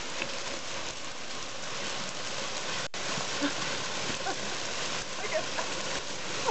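Hail falling during a heavy hailstorm in Fairbanks, a steady dense hiss of countless small impacts on surfaces, moderately loud and continuous, with a brief dropout midway and a short spoken remark over it.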